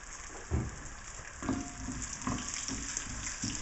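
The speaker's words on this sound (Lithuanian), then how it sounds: "razinų ir jas kepiname tol, kol jos papurksta" Sunflower seeds and raisins fry in hot oil in a pan, crackling and popping in irregular bursts over a steady soft sizzle, close and moderately loud.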